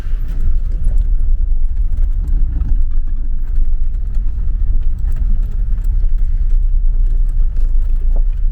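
A car climbs Mount Serabit in the Sinai desert, its engine giving a loud, steady low rumble with road and wind noise throughout.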